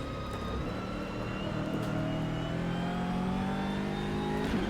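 A BMW race car in the rFactor 2 racing game on Road Atlanta revs and pulls through the gears, a loud continuous engine whine rising and falling in pitch.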